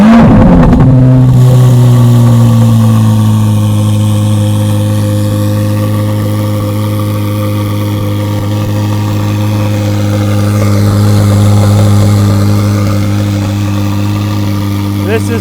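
A 2023 Corvette Z06 70th Anniversary engine fires with a brief burst, then settles into a deep, steady, loud idle with a slight rise and fall in the middle, heard close up.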